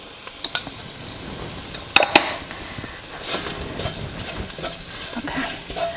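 Cauliflower stuffing sautéing in a pan with salt, soft frying and stirring with spoon scrapes and a couple of sharp metallic clinks against the pan, fairly quiet and close.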